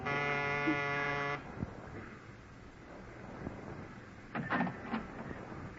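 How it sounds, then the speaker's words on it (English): A harsh, steady electric door buzzer sounds for over a second, then cuts off, followed by quiet room noise and a few faint knocks. "I pushed the buzzer anyway"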